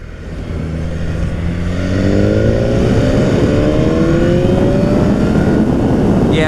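A 2017 BMW S1000R motorcycle doing a fourth-gear roll-on from about 25 mph: the engine note climbs steadily under strong acceleration, loud and close, with wind rush building throughout and no talk.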